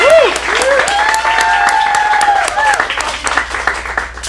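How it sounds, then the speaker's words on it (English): A crowd applauds and cheers loudly for a teen actor at an acting studio showcase in Phoenix, with steady dense clapping and whoops sustained throughout, and a voice calling out over it. "Let's give her a big round of applause."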